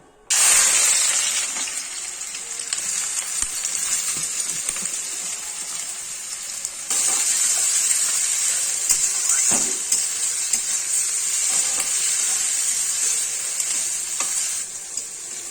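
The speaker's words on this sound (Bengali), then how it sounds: "আমি এখন এই পেঁয়াজটাকে ভেজে নেব।" Onions fry in oil, a loud, continuous hiss of sizzling that starts abruptly and carries on steadily, with occasional stirring clinks and a brief surge midway.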